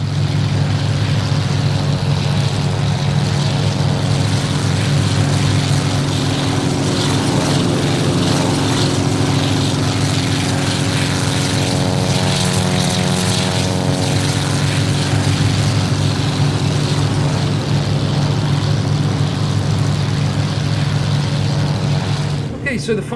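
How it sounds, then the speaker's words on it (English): The V8 engine of a Bf 108 Taifun aircraft in Microsoft Flight Simulator, heard from outside, drones steadily and loudly throughout, with a constant low hum and no break in the sound. "let's just pop onto the outside for you and listen to that V8 engine."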